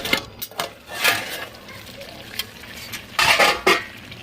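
A plate set over a pan of fish and spinach curry as a lid, heard as a few close metallic clinks and scrapes of dish on pan among quieter kitchen handling, with a soft bubbling underneath.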